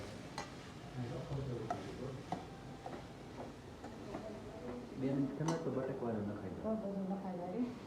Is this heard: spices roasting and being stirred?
yes